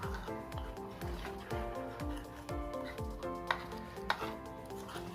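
A batter for chicken lollipops is whisked by hand in a bowl, giving quick, rhythmic scraping and sloshing strokes repeated about once a second, close and fairly quiet, with a couple of sharper clinks.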